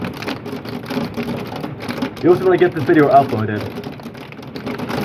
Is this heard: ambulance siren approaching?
no